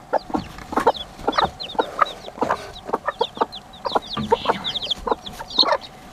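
Hens and baby chicks cluck and peep close by, a steady patter of short clucks mixed with high chirps that carries on for several seconds with no talk.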